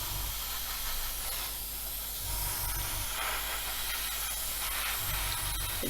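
An airbrush sprays a thin paint mix onto an Airfix 1/24 F6F-5 Hellcat model, a steady close hiss of air and paint with faint low rumbling bursts underneath from the compressor.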